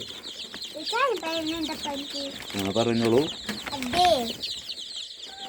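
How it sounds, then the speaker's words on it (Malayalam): Many native (desi) chicken chicks cheep constantly in high, thin peeps, joined by louder clucking calls from grown fowl, with a brief voice speaking nearby. "നമ്മുടെ നാടൻ കുഞ്ഞുങ്ങൾ"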